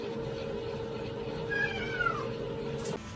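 A pet cat gives one drawn-out meow, clear and fairly close, over a steady low indoor hum.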